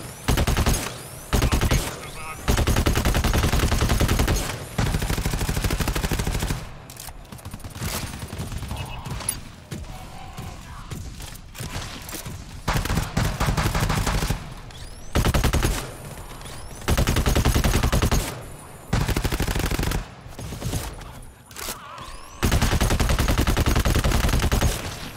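Heavy automatic gunfire from the video game GTFO rips out in long, loud bursts separated by brief pauses, with quieter stretches of movement and scuffling between volleys.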